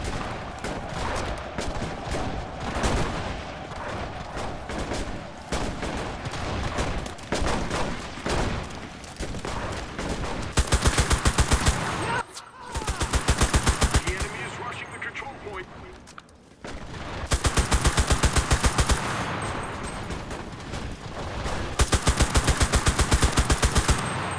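Dense, loud gunfire from the online shooter Enlisted: rapid machine-gun bursts and rifle shots rattle almost nonstop, with brief pauses between volleys and a voice speaking over the fighting.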